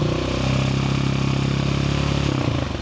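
A 2026 KTM 690 Enduro motorcycle with a full aftermarket exhaust runs steadily with a rough, pulsing throb, the revs held and easing slightly near the end, with no voices present.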